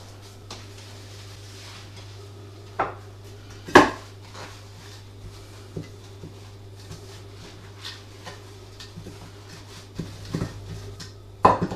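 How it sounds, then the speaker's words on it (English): Metal pie dishes and utensils clink and knock while the dishes are buttered for steak pies: several sharp, separate clatters over a low, steady kitchen hum, with no talking. "And now we're going to butter our pie dishes."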